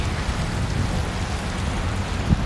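Steady rain on an outdoor shore in Chicago, a dense even hiss with low rumbling texture throughout, loud and close, with no voices.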